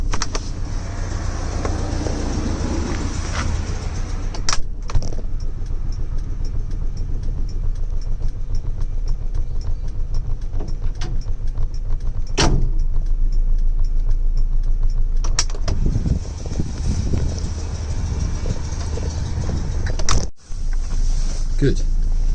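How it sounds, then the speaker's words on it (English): The bonnet of a 1970 Lancia Fulvia Berlina is shut, a single sharp thud near the end over a steady idling engine hum, with a few earlier knocks and rattles. "Bonnet's now closed."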